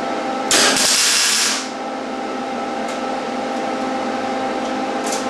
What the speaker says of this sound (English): now that it's tack welded, we can go ahead and weld it